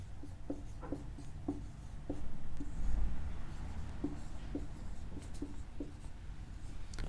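Chalk or marker taps and scratches across a board in a steady series of short strokes, close up over a constant background hum, with no talking.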